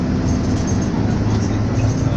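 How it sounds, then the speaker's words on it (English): A bullet train in China rushes past with a continuous loud rumbling roar and a steady low hum, close and even in level throughout. "Bullet train here."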